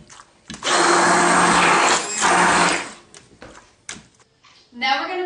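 An immersion blender purees cooked pumpkin for a pie, whirring loudly in two steady bursts with a short pause between, followed by a brief voice.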